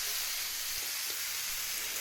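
Vegetable curry sizzling steadily in a pan with five-spice, a continuous bright frying hiss close by with no talking.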